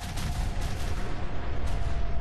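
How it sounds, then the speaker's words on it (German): A deep, rumbling video game explosion in Fallout 4 with dense low booms, sustained and loud throughout, like explosions and heavy fire going off close by. "Diese Explosion habe ich so vermisst."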